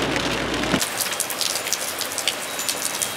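Steady rain pours down on an outdoor scrap-collecting scene, a dense continuous hiss with scattered droplet taps, loud and close throughout with no voices.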